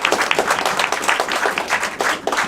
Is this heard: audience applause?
yes